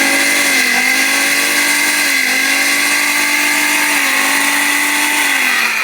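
An Orpat 1600 W blender mixer grinder runs at high speed with a loud, steady whine that rises and dips slightly in pitch, close up and continuous throughout with no talking.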